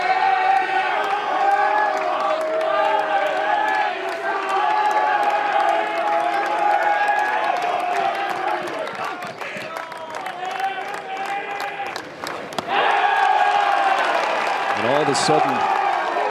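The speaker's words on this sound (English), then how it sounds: "a lot of woo pig suey to our right. The Arkansas crowd that made its way a long ways" Arkansas fans at a college baseball Super Regional against North Carolina chant and cheer in a dense, roaring crowd, while a commentator talks over the noise.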